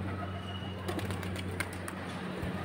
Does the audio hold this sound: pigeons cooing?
yes